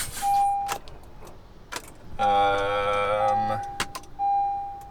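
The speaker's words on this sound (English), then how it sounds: "My car's not starting." A car failing to start: a steady electronic chime runs on and off while a stuttering, harmonic whirring of the starter cranks for about a second and a half, with clicks and jingling around it and no engine catching.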